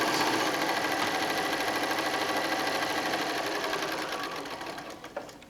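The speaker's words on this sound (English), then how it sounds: "we're going to go ahead and stitch that" A sewing machine stitches fat-quarter fabric rectangles for a quilt with a continuous close whirring run that slowly eases off and stops near the end, followed by a small click.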